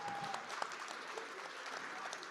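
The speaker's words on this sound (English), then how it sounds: "let's clap it up for our panelists one last time" An audience at a democracy summit applauds panelists, a continuous wash of many hands clapping, fairly faint and distant, with a few brief voice traces over it.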